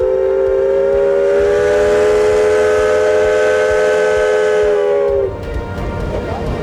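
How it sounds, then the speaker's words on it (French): Steam whistle of the Neuchâtel lake steamboat, a loud, sustained tonal blast held for about five seconds before cutting off, leaving low rumbling ambience behind. "La réponse, le sifflet."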